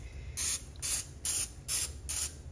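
Cooking spray hisses onto a heated griddle lined with wax paper in five short, even bursts of about a quarter second each, close and moderately loud, with no talking.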